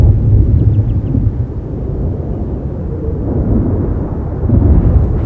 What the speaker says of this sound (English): the sound of the approaching storm is a familiar one.